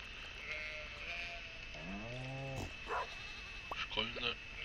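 Sheep bleating on a farm in the video game Stardew Valley, a couple of short harmonic bleats standing out over a steady ambient background, with a few softer animal calls following.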